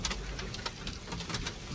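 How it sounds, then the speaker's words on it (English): Big hail falls during a large EF3 tornado in Kankakee, Illinois, a constant hiss of rapid, irregular ticks and clatters striking surfaces nearby, moderately loud with no voices. "Big hail."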